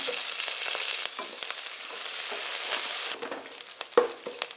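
Spices and green chillies sizzle and crackle steadily in hot oil, with occasional stirring scrapes and small pops toward the end.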